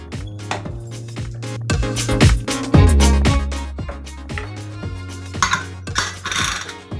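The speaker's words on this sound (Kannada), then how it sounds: "ಈಗ ಕುಕ್ಕರ್ ಮುಚ್ಚುವ." A pressure cooker lid being fitted and closed over dal, with close metallic clanks, scrapes and ringing clinks of metal on metal, several sharp hits in an uneven rhythm.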